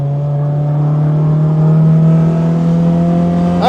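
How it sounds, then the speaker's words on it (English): An old MGB car engine revs hard on the Castle Combe race track, a loud, close, sustained drone whose pitch climbs steadily as the car accelerates, with no voices over it. "This engine just revs in a way MGB engines don't usually."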